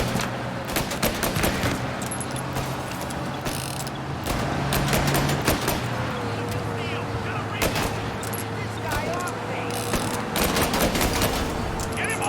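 Rapid bursts of gunfire from shooting in Mafia: Definitive Edition, with repeated sharp volleys and mechanical clatter running throughout, loud and close.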